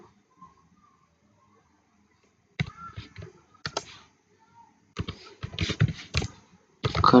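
Bursts of typing on a computer keyboard while coding, quick clustered keystrokes separated by pauses, with a faint voice briefly audible at the start.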